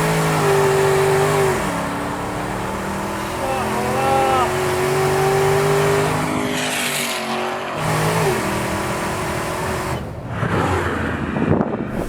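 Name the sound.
Dodge Charger SRT 1000+ hp engine revving and accelerating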